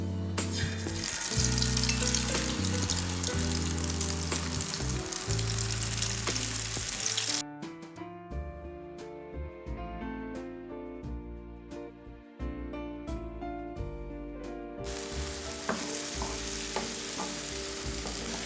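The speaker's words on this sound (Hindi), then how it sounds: "1 कप ऑयल हमारा गर्म हो चुका है। अंडा भिंडी डाल लेंगे।" Okra and egg fry in a cup of hot oil, with a dense, continuous sizzle and stirring under prominent background music that briefly thins out midway.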